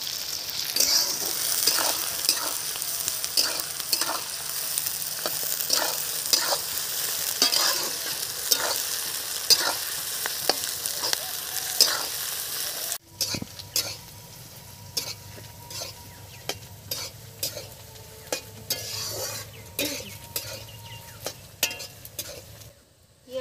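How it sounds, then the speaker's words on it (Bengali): Sliced onions frying in hot oil with cinnamon sticks, cardamom pods, cloves and a pinch of salt, a steady sizzle broken by repeated scraping and clinking of a spatula stirring in the pan. "পেঁয়াজটা আমার খুব সুন্দরভাবে ভাজা হয়ে গেছে"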